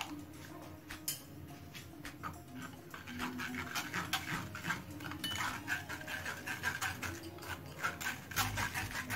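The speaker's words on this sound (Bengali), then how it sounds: "এবার একটা ছাঁকনির সাহায্যে পালং শাকটা ছেঁকে নেব।" Ground spinach strained through a sieve in a kitchen, faint close scraping and metallic clinks of a spoon against the mesh and bowl in an uneven rhythm, no talking.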